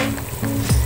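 A pot of Filipino chopsuey-style sopas with vegetables comes to a boil, giving a steady, close bubbling and sizzling hiss that swells near the end, with no voices.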